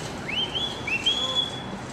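A person whistles a few short rising notes outdoors on a New York street in the Lower East Side, the tones clear over a low background hum.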